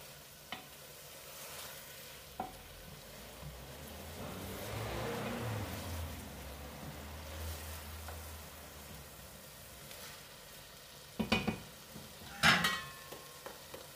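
Spanish meatballs, albóndigas, fry in a pan while being stirred, giving a steady close sizzle with soft scraping and a few sharp utensil clatters near the end.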